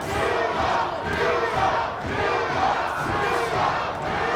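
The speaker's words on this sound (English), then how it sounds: "Neeco is what the crowd is yelling here" A boxing arena crowd chants the fighter's name Neeco in a loud rhythmic, repeated roar, pulsing about once a second as a massed chant.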